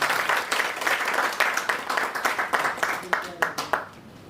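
An audience at a felicitation ceremony claps vigorously, a dense burst that breaks into rhythmic, separate claps before fading out, with voices faintly under it.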